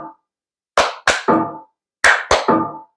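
Loud, close hand claps trigger a JBL Partybox 1000 party speaker. They come in two quick groups of sharp claps, each burst trailing a short ringing tail, with silence between the groups.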